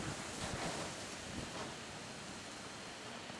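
Strong gusts of wind buffeting a building, a loud steady broadband roar that swells and surges near the start and stays dense throughout, with no voices.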